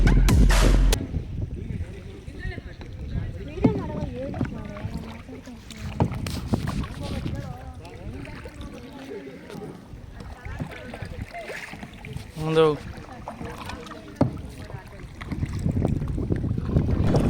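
A kayak is paddled across open water, with soft, irregular splashes and drips under steady wind buffeting the microphone, and quiet voices now and then.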